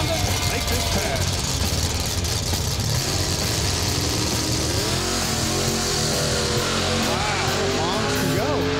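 A drag racing car makes a pass, its engine a loud, constant roar with wavering tones rising and falling over several seconds, while voices talk over the noise.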